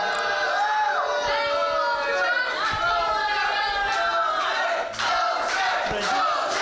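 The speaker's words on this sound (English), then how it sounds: "The crowd does not agree." A crowd at an amateur charity wrestling show shouts and chants in unison in protest, loud and continuous, with wavering group voices and a few louder yells on top.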